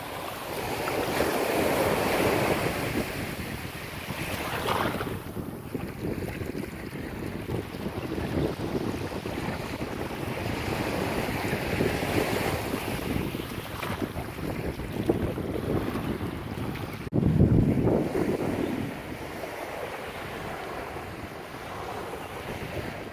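Waves wash onto the sand at Treasure Island Beach in a continuous rushing surf, with steady wind buffeting the microphone and a few louder surges rolling in over the span.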